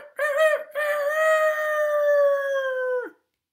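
A storyteller's voice imitates a rooster crowing, one short call followed by a long, drawn-out crow held for about two seconds, loud and close, with no other sound around it.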